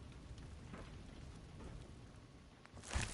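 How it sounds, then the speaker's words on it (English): Steady, soft rain patters in Fallout 4, a quiet even hiss of drops with a brief louder thump near the end. "There's a rain on."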